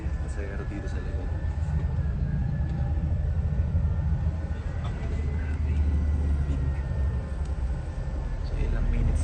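Inside a moving bus on a trip through Pangasinan, a steady low engine rumble and road drone run throughout, with faint rattles and low murmuring voices in the background.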